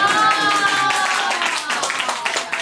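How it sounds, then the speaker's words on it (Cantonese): Guests at a traditional village wedding in Liede, Guangzhou clap in a short burst of applause, fairly close and loud, with a voice speaking over it and a ringing tone at the start. "掌聲有請祝福"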